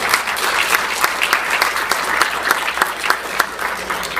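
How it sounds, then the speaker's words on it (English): Steady audience applause at a community listening and input session on school attendance areas, many hands clapping together in a dense, continuous wash with no talk over it. "can we have a round of applause for our community members and parents that helped us out here tonight?"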